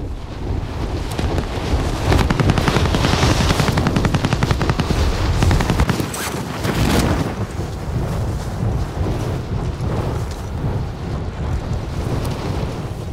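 Sustained gunfire in the battle royale shooter Warzone: rapid automatic bursts rattle almost continuously over a rumbling, wind-like background, loud and close, with no talking.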